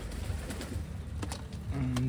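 A pigeon gives low soft coos close by in a loft, with a faint voice and light handling noises around it.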